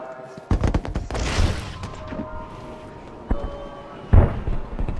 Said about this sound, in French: Il y a des feux d'artifice